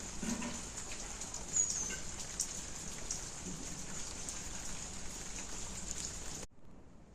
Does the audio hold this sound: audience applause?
no